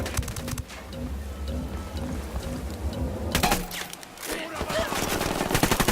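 Automatic gunfire in Ghost Recon Wildlands crackles in rapid bursts, scattered and somewhat distant at first, then louder, denser volleys break out over a low rumble of background ambience.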